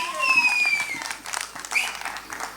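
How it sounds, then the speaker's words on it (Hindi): An audience applauds for Sunny Deol at a film event, a brisk burst of clapping with some cheering, fairly near, alongside a few high whistles. "सनी सर के लिए एक बार जोरदार तालियां ladies and gentlemen"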